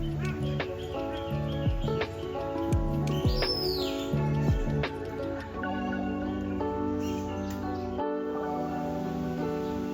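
Birds at Zoo Miami's bird area chirping and calling, with repeated bright tweets, a few swooping whistles and rising calls over a dense, steady background of other bird song.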